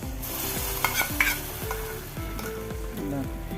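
Stirring and sizzling in a pan while making kappa pradhaman, a Kerala tapioca payasam, with a repeated scraping rhythm and a light bubbling sizzle, close and steady with no talk.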